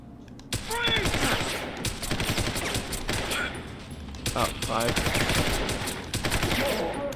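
Repeated pistol shots in Deus Ex: Human Revolution, a steady rapid run of loud cracks with brief pauses, mixed with game effects and intermittent voices.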